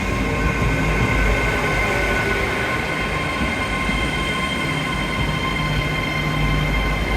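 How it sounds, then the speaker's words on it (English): A train rumbles past close by in a continuous loud roar of wheels on rails, with faint high squeals over the steady rolling noise. "Here's a train anyway"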